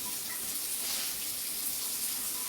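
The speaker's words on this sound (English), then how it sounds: "Let the water run." A kitchen tap runs steadily while sausage bread dough is being made, giving a constant faint hiss of flowing water that carries on unbroken with no talking over it.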